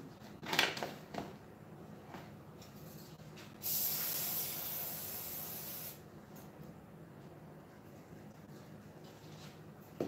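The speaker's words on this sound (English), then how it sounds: "A little bit of carburetor cleaner on the table will help me clean this brush." A single hiss of carburetor cleaner sprayed from an aerosol can onto a shop table lasts about two seconds, close and clear, between quieter handling noises and faint knocks.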